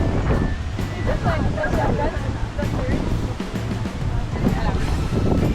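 Strong wind buffets the microphone in constant rough gusts on a beach in Boracay, with surf rumbling somewhere behind and people talking now and then.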